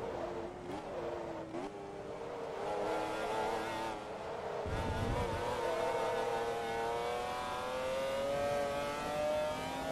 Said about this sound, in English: if you don't get excited by the noise of this engine